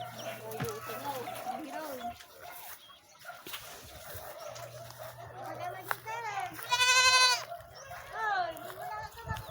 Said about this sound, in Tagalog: mga kambing, mga manok